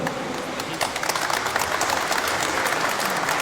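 Steady, dense applause from a crowd, many hands clapping at once with no pauses, fairly close and even in loudness throughout.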